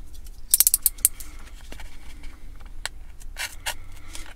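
Scissors cutting a slice of Dodge Challenger taillight overlay vinyl, a quick run of sharp close snips followed by a few sparser cuts and faint handling rustle.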